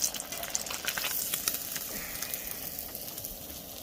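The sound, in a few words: fish frying in hot oil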